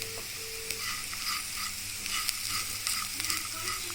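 Bitter gourd fry being stirred in a hot pan: continuous close sizzling with soft scraping strokes of the spoon through the frying slices, steady and alone without talk.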